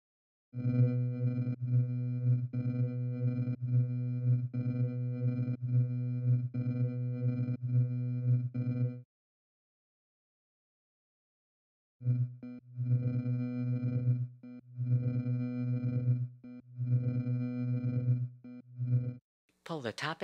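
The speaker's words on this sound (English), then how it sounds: "There are also several preset LFO patterns. Let's try the sine wave." A steady buzzy synth tone pulses rhythmically with a smooth sine-wave LFO modulation on the Dawesome Myth synthesizer, stops for a few seconds of silence, then resumes.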